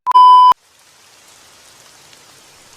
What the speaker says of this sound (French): il pleut encore, on va devoir rester ici enfermé toute la journée